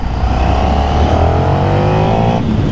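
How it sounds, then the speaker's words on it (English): A new 2024 KTM 1390 Super Duke R motorcycle accelerating on a ride, a loud, close engine roar with rising pitch held steadily under wind noise for almost three seconds. "This bike, you roll on the throttle, next thing you know, you look down and you're doing 80 miles an hour."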